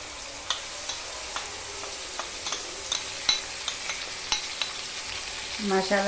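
Masala paste frying in oil for gutti vankaya (stuffed brinjal) curry gives a steady close sizzle, marked by regular scrapes and taps of stirring and a brief louder clatter near the end.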